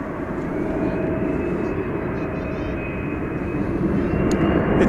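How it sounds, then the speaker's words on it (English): A brand new Airbus A321neo airliner arrives at DFW Airport at night, its engines a broad steady roar that builds slightly as it approaches. "brand new A321neo coming in"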